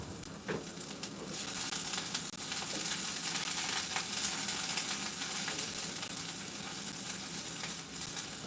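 Onion frying in a pan for an omelet gives a steady, even sizzle close by, with a few light scrapes near the start and no talking.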